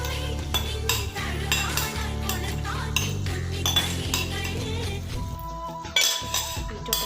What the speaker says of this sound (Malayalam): ബീറ്റ്റൂട്ടും കൂടെ ആഡ് ചെയ്തിട്ട് നല്ല രീതിയിൽ മിക്സ് ചെയ്ത് കൊടുക്കാം.